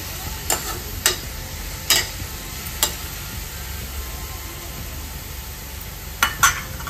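Pineapple coated in salt and jaggery fries in a pan over raised gas, with a steady sizzle broken by about six sharp scrapes of stirring, close and moderately loud with no talking.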